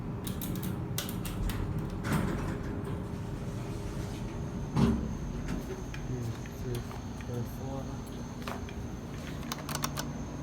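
Machinery of a late-1980s Dover Impulse Cimarron hydraulic elevator with a new motor at an inn: a steady low hum and mechanical drone with scattered clicks and ticks, moderately quiet and continuous throughout.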